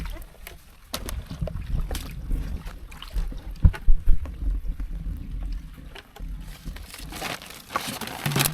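A boat moves across water with wind buffeting the microphone, splashes and knocks rising and falling over a steady low rumble.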